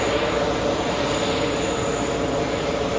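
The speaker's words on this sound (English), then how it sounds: "the Dreamliner about to touch down, the 2nd Etihad today" An Etihad Boeing 787 Dreamliner on final approach to land at JFK airport, a steady, loud, broadband jet roar with a faint high whine held throughout.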